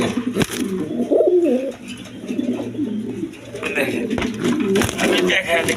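A pair of big red Jacobin pigeons coo in a loft, soft throaty calls repeating close by, with someone talking over them.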